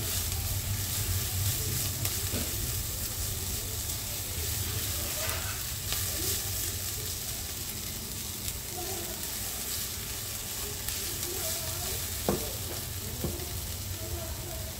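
Cabbage fries in butter in a pan with a continuous close sizzle, punctuated by light scrapes and taps of stirring, running steadily for the whole stretch with no speech.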